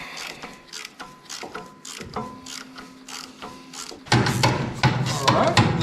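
Ratchet wrench clicking in quick bursts while removing torque converter bolts from a 1970 Chevy C10 pickup during an LS 5.3L swap, close and fairly loud, with a heavier mechanical clatter near the end.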